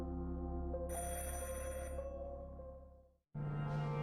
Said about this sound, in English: Is anyone going to answer that phone?